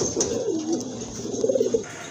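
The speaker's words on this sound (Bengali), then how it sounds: "খুবই সুন্দর এক জোড়া লালদম কবুতর" A pair of red-tailed pigeons coos softly and close by, giving throaty rolling calls with a brief burst of quick coos near the end.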